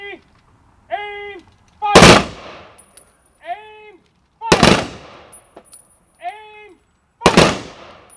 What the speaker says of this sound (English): The ceremony concluded with a gun salute and flag folding ceremony.